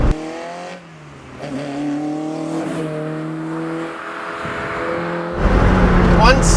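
A modified Peugeot 205 GTI engine revs hard under acceleration, with rising harmonic engine tones climbing through the gears, loud and close from inside the cabin, ending in a rougher, louder surge.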